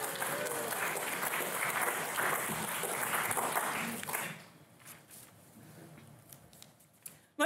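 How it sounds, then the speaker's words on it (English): An audience applauds the host at a literary performance event, with a loud burst of clapping and crowd noise that fades into scattered claps and quiet after about four seconds. "I hope that you might join me in applauding our host"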